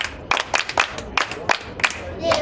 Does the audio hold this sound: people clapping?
yes